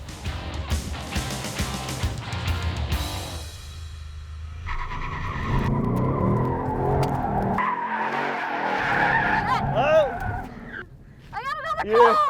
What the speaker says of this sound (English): as you're drifting the left-hander, the more throttle you give it, the more steering you're gonna have to give it towards the drift